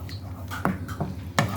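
A spoon stirs an orange juice and vinegar sauce in a bowl for orange chicken, giving two or three close, soft clinks against the side with a faint swish between them.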